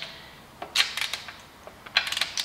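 A torque wrench tightens the wheel lug bolts on a Golf R while summer tyres go back on, giving several sharp close mechanical clicks in two short bursts with quiet gaps between.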